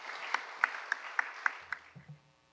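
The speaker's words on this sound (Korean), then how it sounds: "박수로 맞아주시기 바랍니다." A church congregation claps for a testimony speaker at a Thanksgiving worship service, a steady patter of applause with a few sharper claps that thins out, followed by a short low murmur.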